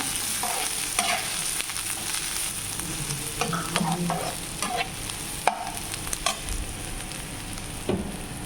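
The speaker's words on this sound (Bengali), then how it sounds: "আমি পেঁয়াজ বেরেস্তা করতেছি" Onions frying crisp in a pan for beresta, with a steady sizzle of hot oil broken by scraping stirs and occasional clatters of a utensil against the pan, close by and continuous, no talking.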